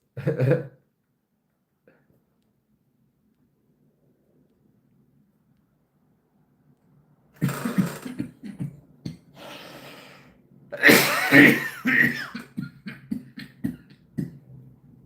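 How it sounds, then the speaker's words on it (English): Scattered coughs and throat-clearing sounds, close and fairly loud, after a long quiet stretch, with breathy bursts between them. "That cough's gonna come back."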